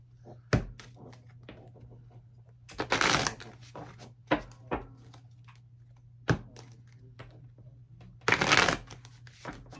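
Tarot cards being shuffled by hand come through as scattered soft riffles and taps, with several louder bursts of rapid flicking, all close and fairly quiet.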